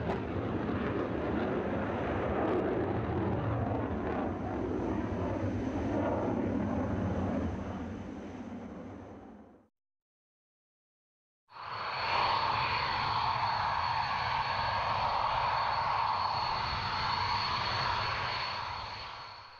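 Dassault Mirage 2000 fighter jet engine roaring steadily and loudly, with a broad continuous rumble that cuts out briefly to silence and then resumes at full strength.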